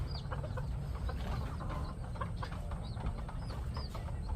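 A Rhode Island White hen strains to lay her egg with soft, low clucks and occasional faint squawks, close by over a steady farmyard background hum.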